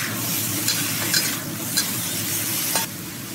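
Chinese stir-fry sizzling in a wok just after light soy sauce and Shaoxing wine go in, a dense continuous hiss with occasional sharp clinks of a spatula, no talking.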